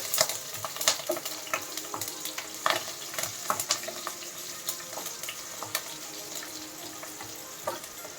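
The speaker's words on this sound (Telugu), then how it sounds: "ఈ ఉల్లిపాయలు, పచ్చిమిర్చి బాగా వేగాలి" Onions and green chillies frying in a pan for capsicum rice, with steady sizzling and frequent sharp stirring scrapes and clicks throughout, close and moderately loud, with no talking.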